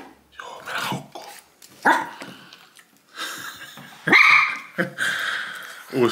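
A dog indoors at home gives a run of repeated, excited barks and yips, close and loud, with a person's voice briefly mixed in.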